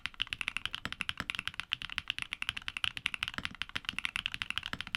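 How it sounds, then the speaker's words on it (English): Mechanical keyboard fitted with Keygeek Higanbana switches in a nylon top housing, typed at a steady fast pace, giving crisp, clacky keystrokes close up with no talking. "The Higanbanas really shine with their crisp typing feel and distinctive clacky sound signature."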